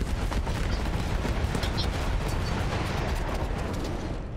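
Rapid heavy cannon fire from a World War I gun in Battlefield 1, a dense, continuous barrage of booming blasts that holds steady and loud for the whole stretch, with no pauses and no talk.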